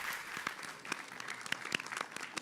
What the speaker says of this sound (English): another huge round of applause for all of the students that have participated today